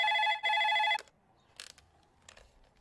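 A telephone rings in two loud electronic bursts, then stops, followed by faint handling clicks in a quiet room.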